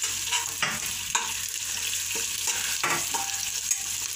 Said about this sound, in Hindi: लहसुन को ज़्यादा नहीं भूनेंगे, कम ही भूनेंगे, मतलब फ्राई करेंगे ताकि मीठापन रह जाए।